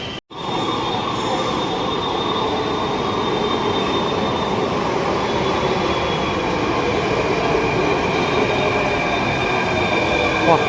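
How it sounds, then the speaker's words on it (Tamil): Delhi Metro train pulling into the station, a loud, sustained rumble and wheel hum with a faint high squeal running steadily throughout. "மெட்ரோவில் ட்ரெயினுக்கு வெயிட் பண்ணுறோம்."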